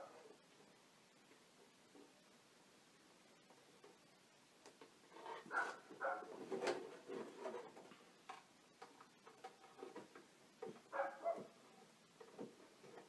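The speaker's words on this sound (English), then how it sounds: "Sorry for the dogs barking in the background." A neighbor's dog barking in the background, faint and distant, with a cluster of barks midway and another near the end, otherwise quiet.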